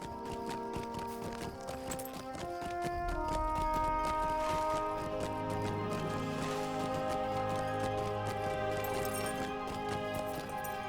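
In the online game LOTRO, a horse's hooves clip-clop in a steady rhythm beneath a loud, continuous orchestral music score, with no speech.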